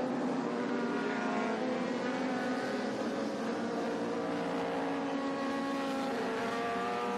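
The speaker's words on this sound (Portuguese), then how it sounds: "começa para valer a Superbike Lite, a galera acelerando para valer, o Black larga na ponta" Superbike Light race motorcycles accelerate hard on a racetrack, a continuous high-pitched engine whine with shifting tones that persists throughout, moderately distant and without speech.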